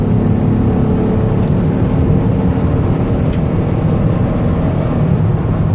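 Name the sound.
2002 Chevy Venture van accelerating on the highway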